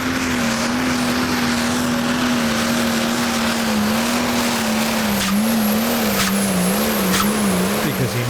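Blue Rabbit, a pulling tractor at a Danish championship tractor pulling round in Hjallerup, roars with a loud, sustained engine note that wavers and climbs slightly across the run.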